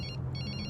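A telephone rings in a Bollywood action film scene, quick bursts of a bright electronic ring pulsing in short repeated trills, fairly clear over a low background hum.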